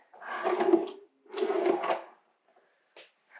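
A wooden nightstand drawer in a cabin slides open and then shut in two smooth scraping strokes, followed by a faint click, close and quiet with no talk.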